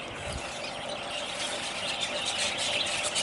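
A 2-horsepower water pump with a brass impeller runs beside a river, drawing water up a pipe, giving a steady faint whining hiss with occasional bird calls around it.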